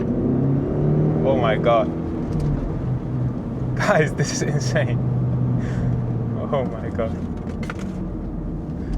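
A 2022 Land Rover Defender Heritage Edition on the move, its steady low engine and road rumble running throughout while someone speaks excitedly over it.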